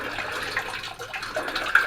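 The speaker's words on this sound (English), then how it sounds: "I can't stop this mountain water from flowing." Mountain water flowing into a freshly dug garden pond hole, a close, uneven gurgle and splash of running water that rises and falls without stopping.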